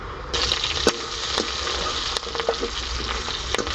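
Dry red chilies and green chilies fry in oil for tempering, a steady loud sizzle with occasional sharp pops and crackles throughout, close up and without talk.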